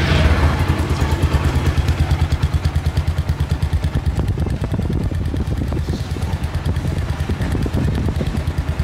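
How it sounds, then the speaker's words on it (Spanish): A TVS Apache 160 4V motorcycle engine idles close by with a fast, even putter of pulses that holds steady throughout, with no talking. "Vamos a escuchar el sonido del motor."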